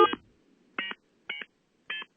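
Four short bursts of telephone touch-tone dialing on a landline call-back, one opening burst then three evenly spaced tones, clear and isolated against near silence.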